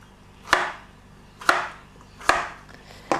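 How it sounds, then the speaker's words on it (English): A knife chops a red onion into chunks on a board, four sharp, evenly spaced strokes, close and clear with no talking. "I'm just going to chop this into small wedges"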